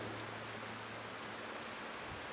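Heavy rain pouring down in the Paraíba countryside, a steady dense hiss of drops drumming on surfaces, close and constant, no voices.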